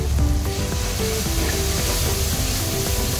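Masala for matar paneer biryani, seasoned with Kashmiri red chilli powder, sizzling and frying steadily in a pan, a continuous close crackle with no voices.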